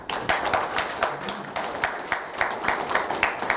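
Applause from an audience at a press meeting with journalists, a short burst of clapping with uneven claps rising and falling, fairly close, with no talk over it.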